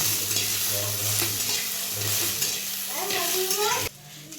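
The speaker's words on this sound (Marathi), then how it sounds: "छान असं लालसर भाजून घेते गवारीची" Cluster beans roasting in a hot pan and being stirred, producing a steady loud frying sizzle with rhythmic scraping strokes, and a voice speaking briefly over it near the end before the sound cuts off.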